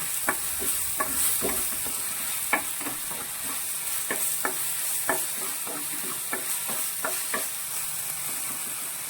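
Masala paste for a sardine curry with green coriander and black pepper stirred and frying in a pan, a steady sizzle with regular scraping strokes of the spoon, no talking.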